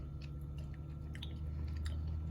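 Someone bites into a crisp quesadilla of mushroom and onion in a white corn tortilla, giving close, soft crunching and chewing sounds over a steady low background hum.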